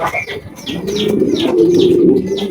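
A pair of Tiger Beauty pigeons coo at a pigeon farm: a close, repeated series of soft, throaty calls in an even rhythm, with brief higher chirps layered over the low rolling coos.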